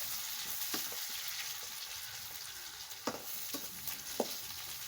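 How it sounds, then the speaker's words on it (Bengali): Onion frying in a pan for a home-style chicken and Malabar spinach dish, a steady sizzle running throughout with a few sharp clicks and taps from stirring. "এখন পেঁয়াজ ভাজা কিছুটা দিব ওর মধ্যে।"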